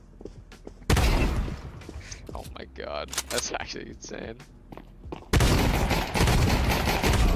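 Shotgun blasts in Counter-Strike 2: two loud bursts of gunfire, a short one early and a sustained volley near the end, with excited talking in between.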